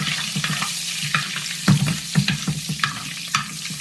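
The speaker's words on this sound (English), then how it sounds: "Right now we just want to brown our gravy, our flour, sorry." Flour browning in a pan for hamburger gravy, with a loud continuous sizzle and the scrape of a utensil stirring at close range, no voices.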